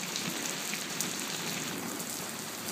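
Steady rain pours down outdoors, a dense, even hiss of drops striking surfaces that holds without a break for the whole stretch, close and fairly loud, with no voices.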